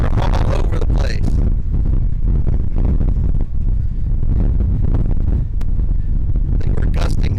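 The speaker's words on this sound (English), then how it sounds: "That wind is really shaking everything here. It is shaking the camera all over the place." Strong gusts on a cruise ship deck buffet the camera, giving a loud, continuous rumbling roar that surges and dips, with occasional voices underneath.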